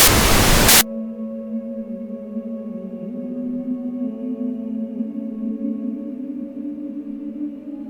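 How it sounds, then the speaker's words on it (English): Radio static in the Korsakovia mod for the Rockstar editor: a brief, loud burst of harsh white-noise static that cuts off abruptly into a low, droning hum of sustained tones. "But all I could hear was the static."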